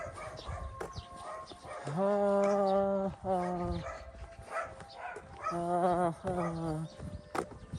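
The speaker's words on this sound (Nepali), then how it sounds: "यहाँ कुकुरले भुकेर फेरि यो भोकेको कुकुर लास्टै छ हौ" A village dog barks outdoors in a few drawn-out, howling bursts that come in two clusters, fairly close and loud, with faint background noise between them.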